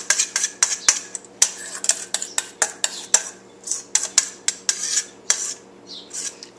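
A spoon scraping and clinking against a metal double boiler pot while stirring a custard egg mixture, with sharp repeated taps and scrapes in an uneven rhythm, close and clear with no talk.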